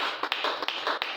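A church congregation applauding in a steady, fairly brisk patter of many hands clapping together, moderately loud and without voices.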